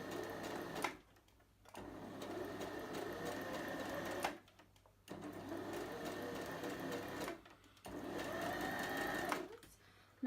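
Sewing machine stitching a reusable heat pack, running in close, steady whirring bursts of a few seconds each, broken by short pauses, with a voice speaking faintly at times.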